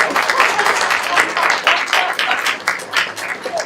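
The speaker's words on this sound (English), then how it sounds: "Do I hear a round of applause?" Applause from an audience gathered for a Tech Women Ambassador Week proclamation for New Hampshire at Lebanon High School, a dense, steady patter of many hands lasting throughout at moderate loudness.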